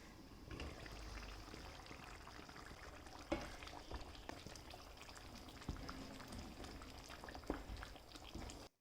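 Chicken gravy simmers in a covered pan, a soft continuous bubbling and sizzling hiss with occasional faint clinks, steady and quiet throughout.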